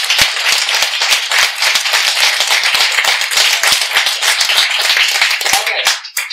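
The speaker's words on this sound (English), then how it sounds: "So give it a round of applause for these guys making their way to here." Loud, close audience applause for panelists at a Q&A session, dense clapping with sharp individual claps standing out, ending abruptly.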